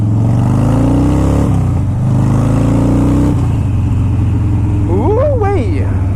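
A motorcycle fitted with tall ape hanger handlebars rumbles loudly and revs up and down close by, a steady deep engine drone with rising pitch sweeps near the end.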